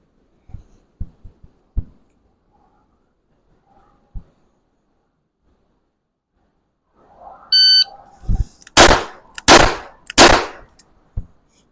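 A single-action cowboy revolver is fired at a target, starting with faint sharp cracks and then a few loud, close booming shots that ring out in quick succession.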